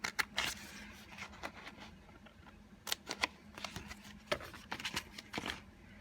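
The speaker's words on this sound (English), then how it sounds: "I'm just going to cut it with a pair of scissors" Scissors snipping through sticker paper while making a greeting card, a series of sharp close-up cuts in uneven bursts over a quiet background.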